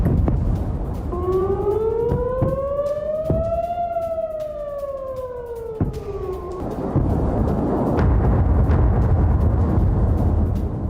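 Civil defense sirens wail during a Hezbollah rocket attack on Kiryat Shmona, Israel, a loud, distant-sounding tone rising and falling in one long sweep over several seconds, then giving way to a broad outdoor rumble.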